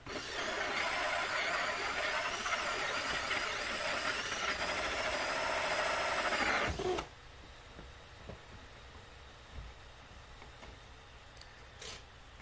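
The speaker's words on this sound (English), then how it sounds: "First I have to drill this hole through here." A power drill whirs steadily for several seconds, drilling an entrance hole in a Flow Hive beehive, then cuts off, leaving quiet room tone with a few faint knocks.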